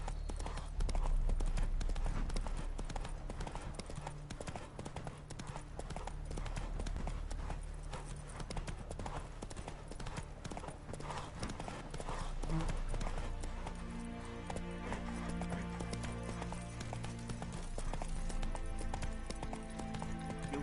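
Roach the horse gallops in the Witcher 3 video game, a rapid, continuous clip-clop of hooves running steadily throughout at moderate volume with a soft game soundtrack behind it.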